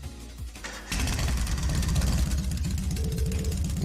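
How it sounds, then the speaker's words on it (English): Orbal bike engine from the Trails of Cold Steel video game cranks briefly, then catches and settles into a loud, steady rumbling idle with a rhythmic throb that continues to the end. "Right then, first is starting up the engine."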